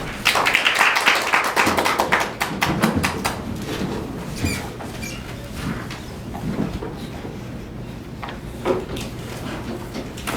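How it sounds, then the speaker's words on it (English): Scattered applause from a small Toastmasters club audience at a meeting, a burst of sharp claps strongest in the first few seconds, then thinning into sparse taps and fading out against a quiet room. "So let's give a round of applause for Lawrence Crompton."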